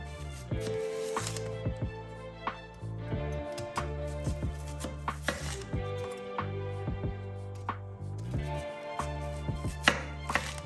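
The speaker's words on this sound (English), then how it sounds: "Cut your onions about 1/3 of an inch or 1 centimeter wide." Knife cutting onions into rings about one centimetre wide for homemade crispy onion rings, heard as steady close board chops with light clinks over a continuous tonal music bed.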